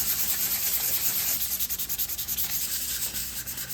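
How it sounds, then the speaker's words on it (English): Hand sanding of a car engine bay with 400 grit sandpaper, a close, rhythmic scratchy rasp of repeated strokes that continues without pause throughout. "we're gonna sand these all down with 400 grit sandpaper"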